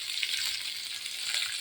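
Urad dal and chana dal frying in hot oil for a vegetable palya, a bright, steady crackling sizzle with a few soft bubbling pops, close and continuous, with no voices.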